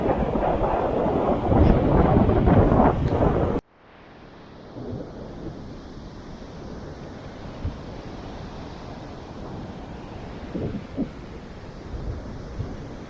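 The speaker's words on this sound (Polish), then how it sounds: "Wiatr jest dokuczliwy. Wszędzie wejdzie." Heavy wind roars and buffets the microphone at first, then cuts to a quieter gusty rumble with occasional bumps for the remainder, on a Baltic beach on the Vistula Spit.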